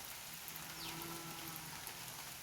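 Steady rain falls on surfaces around an old ruined temple, a continuous even hiss with faint patter, close and unbroken.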